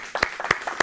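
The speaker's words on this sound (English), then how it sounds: "Everybody give her a big round of applause" Audience applause and claps on a television talk show, heard as a few sharp, near bursts over less than a second rather than sustained clapping.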